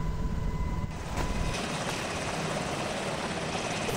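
Helicopter rotor and engine noise during a hurried evacuation, a steady loud broadband roar that holds throughout with a brief dip near the start.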